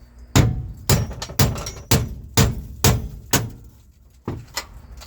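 A hammer drives chisels into the floor pan of a 1974 Chevrolet Nova, sharp metallic strikes landing about every half second, seven or eight close, loud blows with brief ringing between them.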